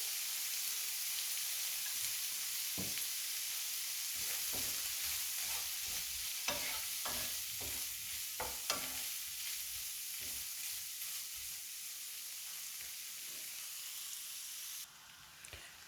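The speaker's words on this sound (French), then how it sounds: "Je vais les faire revenir dans un petit peu d'huile d'olive." Garlic shrimp sautéing in a little olive oil in a pan, a steady close sizzle running throughout with scattered sharp scrapes and clicks of stirring in the middle stretch, no talking.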